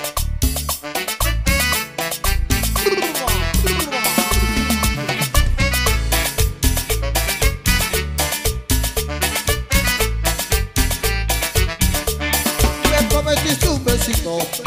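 Tropical cumbia band music plays loud and continuous, with a steady danceable percussion beat, bass and melodic instruments driving a bouncy rhythm throughout, no spoken voices.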